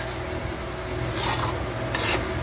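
Cumin and coriander powder stir-fried in a pan for chicken Patiala, a close, continuous scraping rasp with two louder bursts of stirring near the end.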